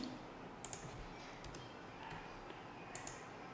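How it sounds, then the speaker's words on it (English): Faint keyboard typing on a computer during a ROS Melodic install on Ubuntu 18.04, a few scattered clicks and short bursts of keystrokes over a low background hiss. "let me type yes"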